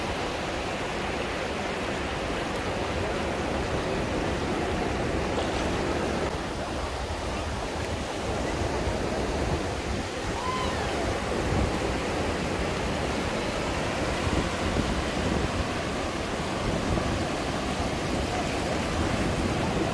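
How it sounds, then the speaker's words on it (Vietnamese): Strong sea waves crash at Sa Vi cape in a continuous, dense roar of surf, steady and loud throughout, with no talk. "Sóng cực mạnh và đẹp."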